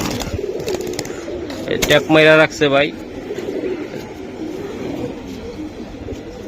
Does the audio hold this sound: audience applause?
no